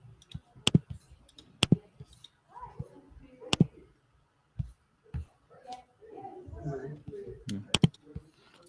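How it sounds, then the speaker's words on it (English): Someone types on a computer keyboard during an online meeting, giving sharp, irregular clicks in scattered bursts, fairly close, while people talk quietly in between. "Somebody is typing and it's quite loud."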